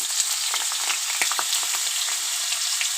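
Potatoes fry in hot oil for Bengali aloo posto, a loud dense crackling sizzle with scattered sharp pops, close and continuous throughout.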